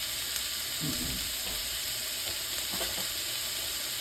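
Cooked Philly cheesesteak filling of meat and vegetables reheats in a pan, giving a steady, fairly quiet sizzle with a few soft stirring scrapes near the start and middle.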